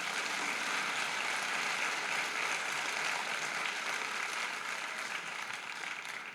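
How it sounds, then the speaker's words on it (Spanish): A church congregation claps for the Lord in a dense, steady wash of applause that fills the room and fades slightly toward the end, with no voices rising above it. "Le damos un aplauso al Señor por eso."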